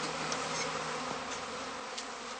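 Dense, steady buzzing drone of a honeybee cast swarm clustering at a heather skep apiary, many insects humming together close by with no pauses and no voices.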